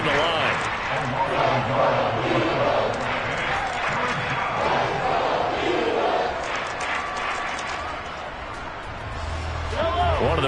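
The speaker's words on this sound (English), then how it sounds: "the crowd getting into it as we come up on a big 3rd down" A stadium crowd roars and cheers during an American football game in Madden 23. The noise swells and stays loud under steady play-by-play commentary, with sharp thuds and a brief lull near the end.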